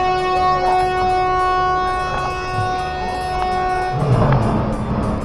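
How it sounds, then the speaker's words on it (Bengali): A train pulling away on the scenic Eastern Ghats line from Vizag to Araku, with steady tonal horn-like drones and rolling rumble, growing louder and rougher near the end. "ট্রেন ছেড়ে দিয়েছে"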